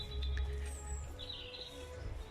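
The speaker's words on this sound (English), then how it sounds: "We can hear the birds singing as well." Birds sing in a cemetery in spring, with faint chirps and short whistled calls over a low background rumble, fairly distant and quiet.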